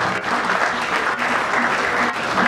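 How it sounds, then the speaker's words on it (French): Crowd at a Congolese youth gathering applauding loudly and steadily, a thick wash of clapping with faint voices beneath it. "je voudrais qu'on applaudisse bien fort"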